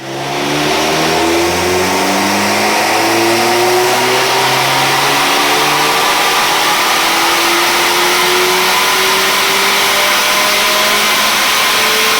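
A BMW 1 Series F20 114i with a stage 3 tune revs hard on a dyno, its engine note climbing steadily through the gears in loud, sustained pulls with rising pitch.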